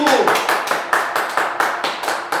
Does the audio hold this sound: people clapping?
yes